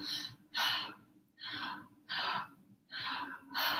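Slow breaths drawn in and pushed out through the mouth, close and airy, in five or so rhythmic breaths separated by short pauses, with no talking.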